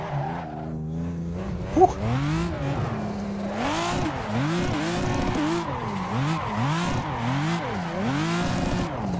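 Toyota Supra drifting in the Assetto Corsa racing game, played on a Logitech G27 wheel: sustained engine revving with repeated rising and falling surges and continuous tire squeal, loud and close throughout, with a brief exhale near the start.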